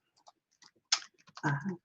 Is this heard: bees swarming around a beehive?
no